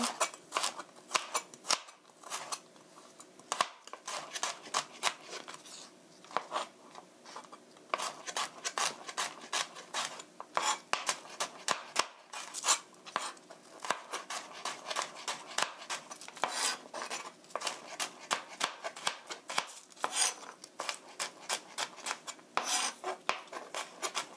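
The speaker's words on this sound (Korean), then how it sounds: "채 썰어주세요." A knife julienne-slices vegetables on a cutting board in rapid, steady strokes, producing a dense run of sharp, close-up taps and scrapes that continues without pause.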